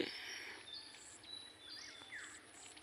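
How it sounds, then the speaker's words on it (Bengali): Several small birds chirp and tweet faintly in the early morning countryside, in scattered short calls over a soft, steady background hum. "পাখিদের শব্দ"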